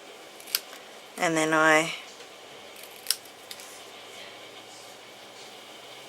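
Scissors cutting down the middle of paper to make a banner at a craft table, a few short sharp snips spaced apart with a brief tonal squeak, alongside quiet speech.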